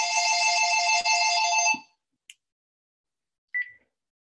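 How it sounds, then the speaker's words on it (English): A telephone rings during a lecture, an electronic ringtone that trills continuously for under two seconds and then stops, followed by a couple of faint short beeps in an otherwise quiet room. "Sorry about the phone interruption."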